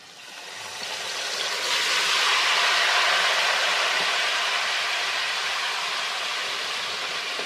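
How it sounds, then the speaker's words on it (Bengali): Onion paste, made from six large onions, hits hot oil and fries with a loud sizzle that swells within a second and then holds as a steady, close hiss, with no talk. "এবারে আমি এই পেঁয়াজ বাটাটা দিয়ে দেব"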